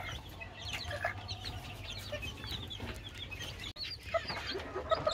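Adult chickens and young chicks kept together in one cage, with soft repeated clucks and high chick peeps scattered throughout at close range, with no talking.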